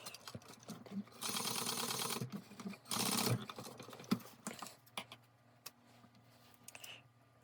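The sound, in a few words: sewing machine back stitching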